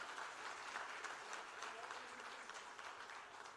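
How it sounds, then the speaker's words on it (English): Applause for two gentlemen at a textile export award function, a steady wash of many hands clapping together, moderately loud and continuous throughout, with faint speech mixed underneath. "And a big round of applause to both these gentlemen"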